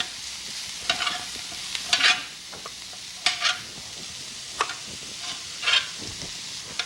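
Quartered potatoes and sausage browning together in a skillet, a soft steady sizzle broken by several bright scraping stirs and clinks of a utensil against the pan, spaced irregularly through the clip.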